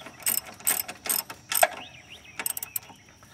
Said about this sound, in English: Go back over on this side, tighten down this baffle so you have both of them nice and tight.